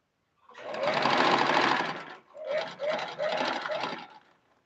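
A sewing machine stitches Ankara fabric for a head dress, running in one long steady burst and then several shorter runs with brief pauses, close and clear with no talking.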